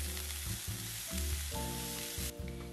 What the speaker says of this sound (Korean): 대파가 부드러워지면 양배추를 넣고 강한 불에서 빠르게 익혀주세요.